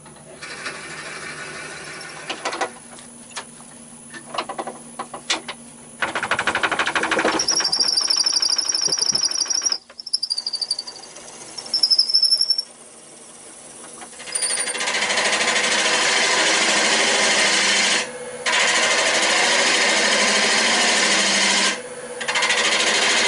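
A wood lathe spins a bud vase during sanding and final shaping with Canadian Superior Grit abrasives, a whirring, rasping hum that starts and stops in bursts, with high squeals and longer steady stretches of grinding.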